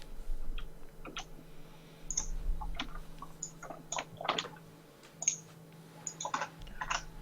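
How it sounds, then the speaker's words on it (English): Computer keyboard keys click faintly and irregularly in scattered bursts during an online Civilization game session, picked up over a voice chat with a low steady hum beneath. "Maybe I'm just hearing his keyboard sounds."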